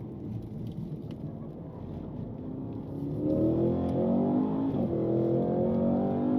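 A 2025 Cadillac CT5-V Blackwing sport sedan revs its engine. A muted engine drone swells partway through into a louder, rising rev that holds steady near the end.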